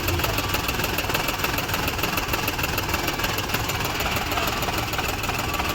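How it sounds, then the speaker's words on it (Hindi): A Maruti Suzuki WagonR engine running on CNG idles with a misfire, giving a continuous, close, rough mechanical clatter with an uneven, knocking pulse throughout. "यहाँ पे देख सकते हो इंजन पूरा मिसिंग कर रहे हैं।"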